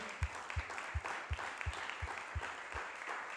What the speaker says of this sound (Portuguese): vamos receber a palavra de Deus com um forte aplauso